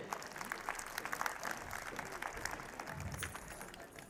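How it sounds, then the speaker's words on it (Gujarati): An audience at a farm and nursery centenary celebration clapping, a faint, steady patter of many hands, distant and fairly quiet, continuing throughout without talk. "સો નવી જનરેશન માટે જોરદાર તાળીઓ થવી જોઈએ"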